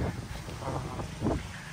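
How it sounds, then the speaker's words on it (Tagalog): Steady broadband wind roar buffeting the microphone outdoors in the Philippines, with gusty swells and low rumbling throughout, no voices. "Malakas po ang hangin dito sa kanila ngayon."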